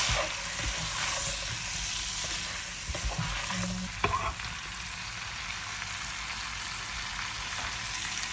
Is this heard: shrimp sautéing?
yes